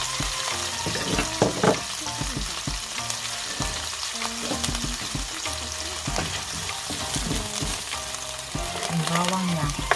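Chopped onion sizzles steadily in a hot pan for a Filipino ginataang chicken dish, a dense continuous crackle broken by scraping stirs and clatters of a utensil, close and loud with no talking.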